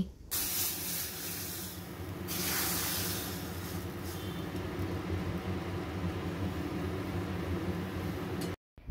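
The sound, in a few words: hot tadka poured onto dal, sizzling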